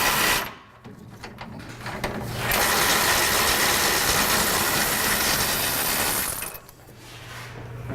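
A bolt coming out of a receiver hitch on a Toyota Tundra frame, with light mechanical rattling at first, then a loud, sustained grinding ratchet-like whir for several seconds before it eases back to quieter clicking.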